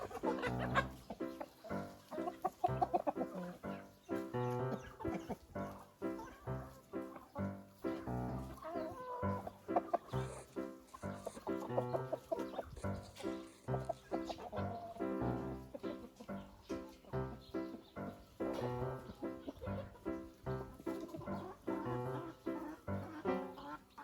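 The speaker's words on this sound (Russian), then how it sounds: "Самые активные куры у меня в хозяйстве." Several hens, Lohmann Sandy layers among them, cluck and chatter busily in a backyard henhouse at feeding time, a dense continuous flock murmur close by with no voices.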